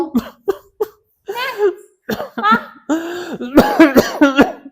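Several sharp coughs and throat clearing come in short bursts, close by, mixed with a hoarse voice.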